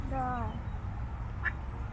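A single raspy duck quack rings out near the start, followed by a faint higher call, over a low murmuring background.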